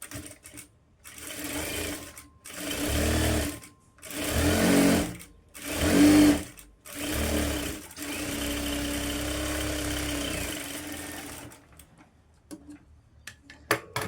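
A sewing machine stitches lining cloth on a blouse in a run of short bursts, then one longer steady stretch, close and fairly loud with no talking.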